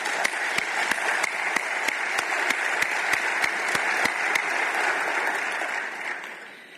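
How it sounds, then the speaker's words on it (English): Sustained round of applause from a conference audience in a hall at the close of the event, dense steady clapping with a few sharper claps standing out, fading slightly at the end. "Please join me in giving them a round of applause."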